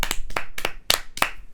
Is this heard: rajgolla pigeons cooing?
no